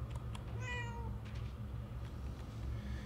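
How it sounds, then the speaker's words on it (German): A cat meowing in the video game Murdered: Soul Suspect, one clear drawn-out meow over a low ambient game background hum. "Miau kann ich machen. Das kann ich gut."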